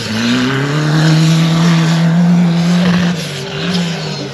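Turbocharged off-road car engine driving on a dirt offroad track, a loud close steady drone with the pitch climbing and then dropping off, under faint talk.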